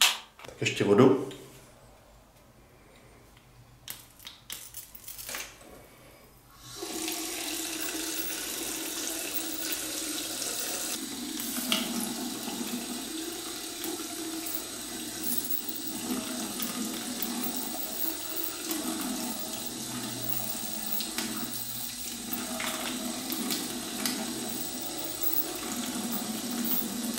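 Tap water pours onto a Basic Nature USB electric lighter: after a quiet start and a brief knock, a steady, close splashing stream runs on without a break for about twenty seconds.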